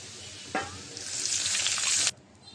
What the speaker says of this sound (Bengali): এখন অল্প পরিমাণ পানি দেব মশলা কষাবার জন্য